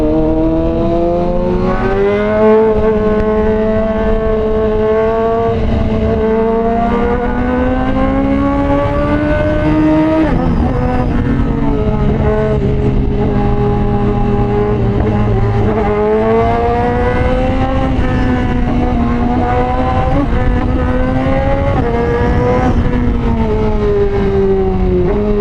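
A motorcycle engine revs loudly and continuously in traffic, its pitch rising and dropping through repeated gear changes with a sharp downshift midway, riding over steady road noise.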